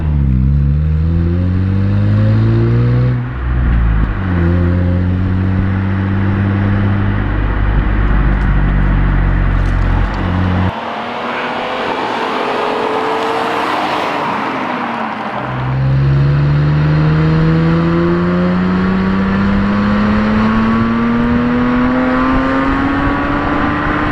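A Lexus IS200 with a Dynomax drone-free muffler exhaust idles loudly with a deep, steady growl, blips briefly, then is revved in a long climb that rises smoothly in pitch, heard close up with no talking.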